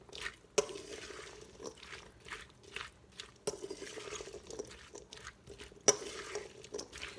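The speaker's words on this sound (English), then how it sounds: "So I'll keep stirring, get it all mixed up." Cucumber and chickpea salad stirred in a bowl: soft, wet mixing and scraping with a few sharper clacks of the utensil against the dish, close and fairly quiet, with no talking.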